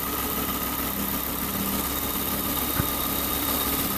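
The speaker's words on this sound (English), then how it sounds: "The noise same like a belt or something touching between the engine and the transmission." A 2005 Volvo V50 engine idles with a steady whining drone and faint tonal hum, a noise like a belt or something rubbing between engine and transmission, continuous and close with no talking.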